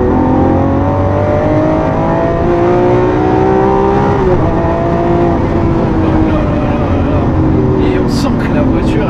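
A Lamborghini Aventador Ultimae LP780-4 V12 accelerates hard, its engine pitch climbing through gears with a brief dip at a shift, loud and close inside the cabin, with voices talking over it.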